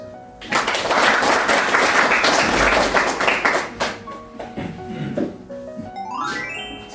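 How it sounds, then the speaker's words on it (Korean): Church workshop audience applauding to welcome a pastor, a dense burst of clapping that swells loud, fades after a few seconds and gives way to a voice and music. "박수로 한번 모셔주시죠"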